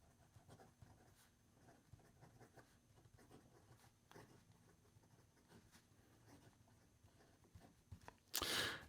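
A Newton Om fountain pen nib scratches softly across paper in quiet, irregular strokes, faint and close, ending with a brief louder rustle.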